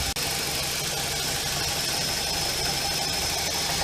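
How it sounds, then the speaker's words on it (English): BMW E46 with the N42 four-cylinder engine idling with a drivebelt pulley fault, a steady broadband engine whir close to the microphone with faint intermittent clunking mixed into the continuous running noise. "occasionally we still have the clunk, clunk, clunk noise"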